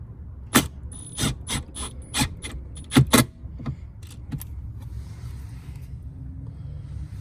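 Ratchet or metal hardware clicking and clattering in a series of sharp, close bursts while bolts go back into a Toyota Tundra pickup truck during an interior tech install, trailing off into quieter rustling.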